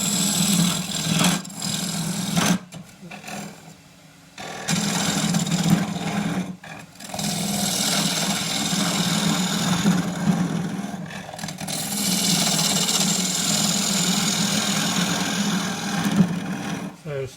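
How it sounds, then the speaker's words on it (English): Lathe spinning oak while a 1/2 inch deep fluted bowl gouge cuts across the bottom of a treasure box, a continuous close grinding, shaving whir with a low hum, briefly breaking off a few times, with a voice talking over parts. "coming in across the bottom, use the 1/2 inch deep fluted bowl gouge for this one"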